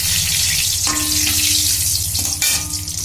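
Whole cumin seeds and bay leaf sizzling in hot oil, a loud close continuous fry with crackling bursts as the spices hit the pan, steady throughout.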